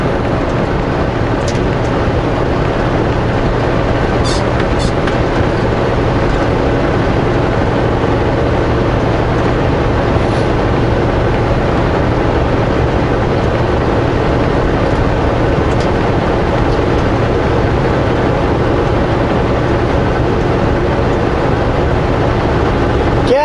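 A truck with a Cummins engine pulls up highway hills, its loud, steady low-pitched drone and road roar filling the cab without letup.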